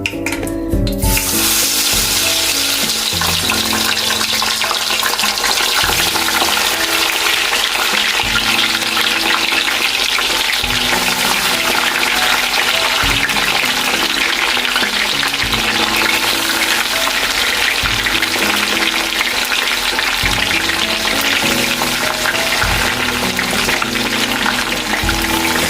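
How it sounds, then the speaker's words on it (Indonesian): A small homemade snack being fried again in oil, a dense, steady, loud sizzle and crackle that goes on without a break throughout, close by and with no talk. "Masih ada nih, digoreng kembali."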